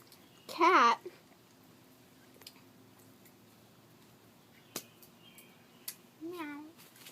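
A young girl imitates a cat with two short, high meows a few seconds apart, separated by near silence and a few faint clicks.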